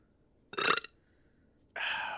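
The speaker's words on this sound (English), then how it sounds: "these pancakes make you burp, alright?" A short, throaty burp after eating pancakes, followed a moment later by a second, longer belch, both close up and loud against near silence.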